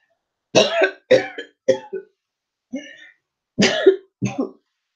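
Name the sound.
coughing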